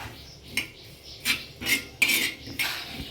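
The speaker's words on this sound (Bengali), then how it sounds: "একটু জিরে ভেজে নেবো আমি অল্প করে শুকনো খোলায় ভেজে নিয়ে গুঁড়ো করে তোমাদের সঙ্গে আসছি" Cumin seeds dry-roasting in a pan on low heat, stirred with a utensil: a series of close, sharp scraping clinks against the metal pan at an irregular rhythm, about six strokes with quiet gaps between.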